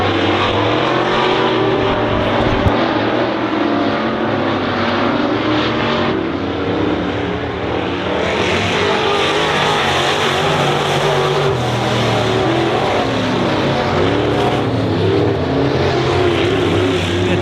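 Race cars lap the oval at Honor Speedway, a loud, sustained roar of several engines blending together as the field runs close, with no voices over it.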